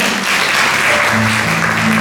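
Loud, dense clapping from a close audience at a school career guidance session, continuous and even throughout.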